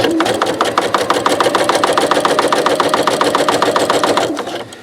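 A sewing machine runs a twin needle topstitch along knit fabric, its steady fast needle chatter loud and close for several seconds before easing off at the end, with no voices.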